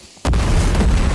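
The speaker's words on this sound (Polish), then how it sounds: "Ej, Brutus wybuchł po tym." A sudden explosion in the video game Fortnite, a loud booming blast that hits after a brief quiet moment and rumbles on heavily with no voices over it.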